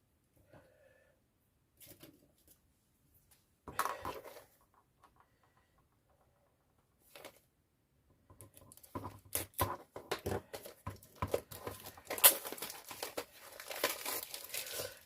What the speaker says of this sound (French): je vais prendre des ciseaux ou un cutter plutôt